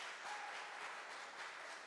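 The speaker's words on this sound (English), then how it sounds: "Let's give him a round of applause." Audience applause in a congregation, a faint, distant wash of clapping that stays even through the short stretch.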